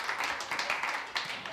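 Spectators at a darts match clap and cheer for a winning player, a scattered burst of applause with rising shouts, fairly faint and irregular.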